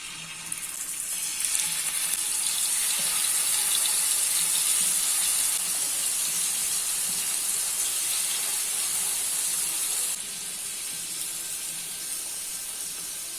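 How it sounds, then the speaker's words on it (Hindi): Chicken pieces fry in hot oil in a pan, giving a loud, continuous, close sizzling hiss that eases slightly near the end, with no voices. "अभी इसमें एक एक करके चिकन के पीसेस ऐड कर देते हैं।"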